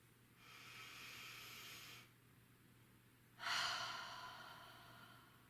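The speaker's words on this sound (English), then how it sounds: "Take a deep inhale." Two deep breaths during a relaxation breathing exercise: a long, soft airy inhale lasting under two seconds, a pause, then a louder, stronger breath that slowly fades, all close and quiet over a faint steady hum.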